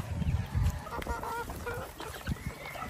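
Three-month-old cockerels on dry feed give busy, overlapping honking clucks and calls while eating, close and fairly loud, with thumps and scuffling underneath.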